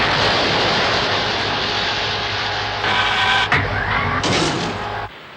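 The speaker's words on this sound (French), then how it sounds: "C'est un bateau à moteur. Il se dirige droit sur nous." A motorboat engine drones steadily and loudly throughout, a sustained broadband roar heading straight toward the listener, swelling slightly near the end before cutting off abruptly.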